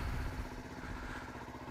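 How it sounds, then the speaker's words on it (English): A motorcycle engine fitted with a new exhaust idles steadily nearby, a low, continuous, slightly clattering rumble holding an even level for the whole stretch with no talk over it. "Oh, I love the sound of that exhaust."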